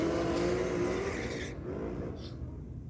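A Ford Capri drag racing car at a Sydney drag and drift night screams at high revs nearby, then its note drops and fades as it pulls away, leaving a distant crowd and track rumble.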